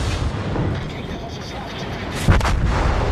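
Naval guns firing in World of Warships, the US destroyer Nicholas in battle: a dense, rumbling barrage with a sharp boom near the end, loud and continuous, with a voice talking over it.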